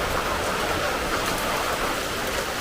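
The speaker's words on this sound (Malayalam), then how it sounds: "ഇപ്പോഴാണ് മഴ ഒന്ന് ശക്തമായി" Heavy rain pours down in a Kerala thunderstorm, a loud, dense, unbroken hiss of drops striking surfaces that holds steady from start to finish with no voices.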